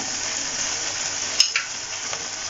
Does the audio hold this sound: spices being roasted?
yes